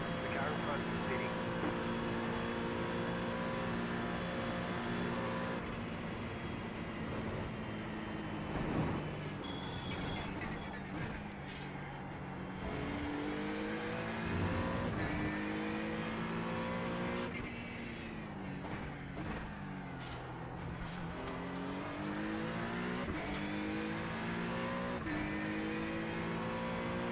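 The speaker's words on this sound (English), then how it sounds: "Fast car coming up quick." Race cars at the Le Mans 24 Hours in iRacing, engines droning and shifting up and down through gears continuously, another fast car closing in, with someone talking over the engine noise.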